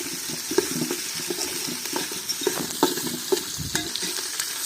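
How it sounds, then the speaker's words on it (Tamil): Curry leaves sautéing in a pan while quail biryani is cooked, a steady crackling sizzle with repeated scraping stir strokes, close up and moderately loud, with no talking. "கருவேப்பிலை மறுபடியும் வதக்கிறோம்."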